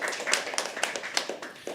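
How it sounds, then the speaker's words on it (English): An open mic poetry audience gives quick, scattered applause, close individual claps overlapping in a brief burst. "Can please have an applause?"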